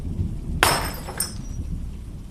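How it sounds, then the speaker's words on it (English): Glass shatters abruptly upstairs in a house, a single loud crash with bright fragments scattering and tinkling for about a second, followed by a smaller clink before quiet returns. "The sound of shattered glass coming from upstairs caught me completely off guard."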